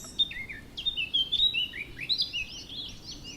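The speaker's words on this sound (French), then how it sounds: "Écoutez le chant des oiseaux, les bruits autour de vous." Small birds sing outdoors, with rapid high chirps and trills coming in lively bursts over faint background noise.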